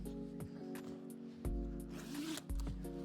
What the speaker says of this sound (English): You can remove both of them with the zipper here.